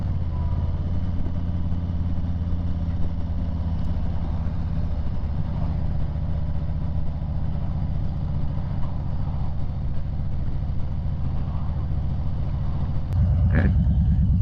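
Harley-Davidson motorcycle fitted with Reinhardt slip-on exhausts, a steady low rumbling engine drone heard throughout while riding, with a brief louder burst near the end.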